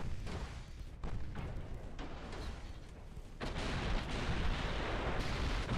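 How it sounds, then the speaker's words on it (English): Warship hits and a torpedo detonation in the naval strategy game Ultimate Admiral Dreadnoughts: heavy booming thuds and rumbling blasts roll over a dense battle din, several impacts in quick succession with no talk. "Big hit with a torpedo detonation."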